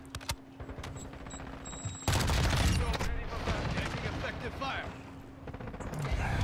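Sustained rapid gunfire from a Lachmann Sub submachine gun in Modern Warfare 2 bursts in loudly after a quieter opening and continues in dense volleys, with other battle noise mixed in and voices talking underneath.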